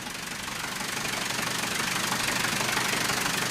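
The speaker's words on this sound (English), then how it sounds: "Ken and Greg can hear, for the first time, how a Wright engine really sounds." A replica Wright brothers aircraft engine runs at a steady idle, a rapid rough knocking chug that is loud and close, alone without voices.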